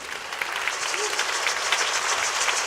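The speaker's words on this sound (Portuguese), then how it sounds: "A plateia recebe com aplausos a chegada de Lenine, Márcia e Geni no palco" An audience applauds as three performers walk onto a stage at a Sesc talk event, a steady, dense clapping that holds evenly throughout without voices.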